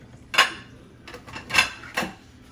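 A knife chops celery and pepper on a cutting board in a home kitchen where shrimp pasta is being made, giving three sharp, close knocks spaced about a second apart with quiet between them.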